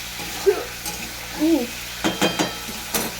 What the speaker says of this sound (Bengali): লবণটা দিয়ে আমি এভাবে একটু নাড়াচাড়া করে নেবো